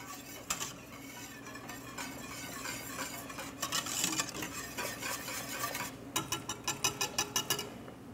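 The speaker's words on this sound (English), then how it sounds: "Give it a good little stir." A utensil scrapes and clinks around a pot of grits in steady strokes, with a soft bubbling simmer underneath and a quick run of rhythmic taps near the end.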